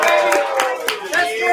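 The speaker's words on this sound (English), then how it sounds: "Hey, everybody clap for Natalia one more time." A crowd at Ellie's Tavern in Baltimore claps during a live draft party, a dense, steady burst of hand claps close by, with cheering voices mixed in.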